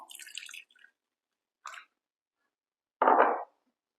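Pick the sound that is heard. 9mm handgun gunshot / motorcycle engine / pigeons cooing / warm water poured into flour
warm water poured into flour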